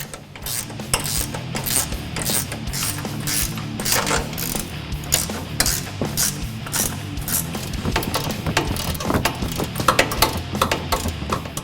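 A ratchet tightening the three upper suspension nuts on a 2015-2018 Ford F-150 during a Roush Fox 2.0 kit install, giving steady rapid clicking with metallic clatter, close and continuous with no talking.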